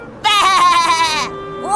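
A loud, close sheep bleat, a single wavering drawn-out cry lasting about a second, followed by the start of a second call.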